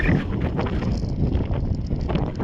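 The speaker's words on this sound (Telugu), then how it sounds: "గాలి అనేది ఎంత ఎక్కువగా వేస్తుందో" Strong wind on the hilltop of Bhuvanagiri fort buffets the microphone in a continuous low, roaring rush, loud and close throughout with no voices.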